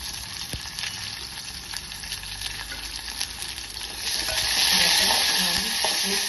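Curry leaves, asafoetida and four finely peeled chillies crackle in hot oil for a dal tempering. The sizzle is close and continuous, with stirring clicks, and it swells louder midway.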